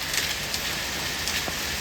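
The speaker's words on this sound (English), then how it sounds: "So I opened my window and for sure it is raining hard." Hard rain mixed with hail pours onto a balcony, a dense, steady hiss of drops with faint scattered taps, close and continuous, with no voices.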